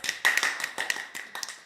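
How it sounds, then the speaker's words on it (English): A small Sunday School gathering at a community fellowship gives a brief round of applause, sparse uneven hand claps from a handful of people, close and fairly loud, with no talking. "so we'll give you a round of applause."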